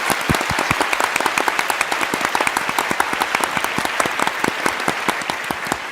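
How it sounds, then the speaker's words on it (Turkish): Studio audience claps steadily in a Turkish TV show final, dense and even, ringing on without a break. "Alkışlarla Akalın ailesi."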